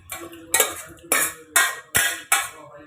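A metal ladle scrapes and clinks against a pot in five or six sharp, regular strokes while transferring mashed dal for sambar, close by, with no talking.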